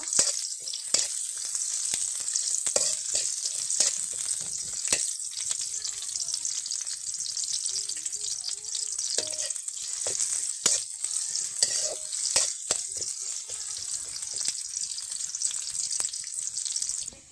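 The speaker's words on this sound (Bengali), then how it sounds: "এখন পেঁয়াজটাকে হালকা বাদামি রং করে ভেজে নিব" Onions fry in a pan, browning with a constant close sizzle and hiss punctuated by sharp crackles and occasional stirring clicks, running steadily throughout without speech.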